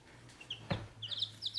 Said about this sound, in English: And here are our new little baby chicks.